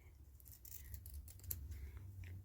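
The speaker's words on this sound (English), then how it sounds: "you can hold 2 or 3 of those little squares in your hand, and you can cut multiples at the same time." Scissors cut through several small stacked fabric squares at once for English paper piecing hexagon petals, a faint steady run of close crisp snips.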